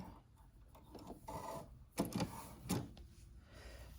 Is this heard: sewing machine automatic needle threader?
yes